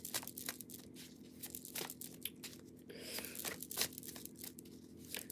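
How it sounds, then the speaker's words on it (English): Tarot cards being shuffled by hand in a quiet room, a run of quick papery riffles and snaps with a denser burst of cascading flutters midway, close and fairly soft. "Wow, what a shuffle."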